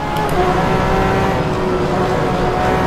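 Porsche 911 RSR GTE race car in rFactor 2, its engine a loud, steady, high-pitched roar held at sustained revs, close and continuous with no talk.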